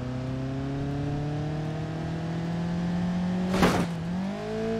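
A mini stock car in BeamNG.drive accelerates, its engine tone climbing steadily with a brief noisy burst near the end before the pitch dips and rises again. No voices.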